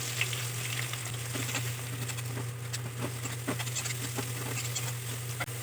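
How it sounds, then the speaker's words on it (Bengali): Chopped onions frying in hot oil with two bay leaves, a close, continuous sizzle with fine crackling and spitting, no voices. "পেঁয়াজটাকে একটু ভেজে নিতে হবে।"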